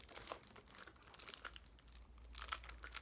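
Plastic wrap crinkles and tears as it is peeled off a PS4 game steelbook, a run of quiet close crackling bursts with brief pauses between pulls.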